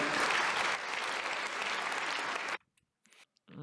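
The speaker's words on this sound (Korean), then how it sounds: "신부 아버님을 큰 박수로 맞이해 주시기 바랍니다." Wedding guests in a ceremony hall break into loud, dense applause for the bride's father, clapping continuously for about two and a half seconds before it cuts off abruptly into near silence with a few faint sounds.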